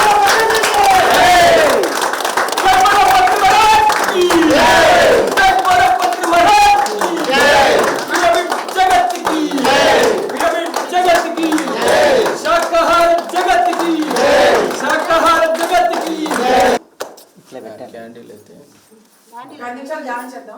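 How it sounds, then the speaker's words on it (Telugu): A large crowd claps and cheers loudly and continuously at an outdoor rally in Atmakur, Wanaparthy, before the noise cuts off abruptly near the end, leaving quieter murmuring and voices. "క్లాప్స్."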